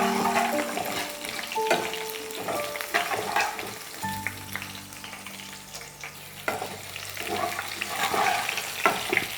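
Green chillies, cut lengthwise, frying in oil in a pan for chitranna, a steady close sizzle with repeated scraping stirs and clinks of a spoon against the pan throughout, no talking.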